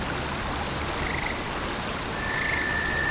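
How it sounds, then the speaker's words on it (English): Steady rushing water fills the night air at a pond, with faint high trilling calls from frogs and toads rising briefly twice. "It was literally like with the frogs and the toads chirping."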